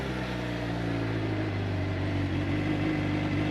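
A 2014 Suzuki GSX-R750 with a Yoshimura Moto GP exhaust pipe idles close by, its engine a steady, even rumble with a low throbbing tone and no voices over it.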